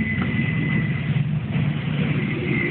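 A 1989 Dodge RAM D100 pickup truck engine idles steadily and quietly, a low, even rumble with a faint constant whine, heard close up and without any voices.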